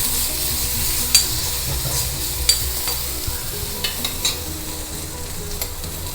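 Mustard seeds, urad dal, neem flowers and curry leaves fry in a spoonful of ghee with a loud, close, continuous sizzle, punctuated by sharp spoon clicks against the pan every second or so.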